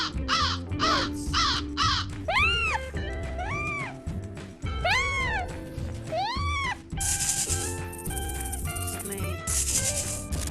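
Crows caw repeatedly in loud, harsh bursts, several calls in quick succession close at hand, followed by a brighter hissing stretch near the end; no one speaks.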